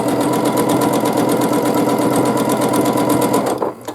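A sewing machine stitches a flower pattern in free-motion quilting, running as a loud, steady, rapid mechanical chatter close by, then stopping abruptly just before the end.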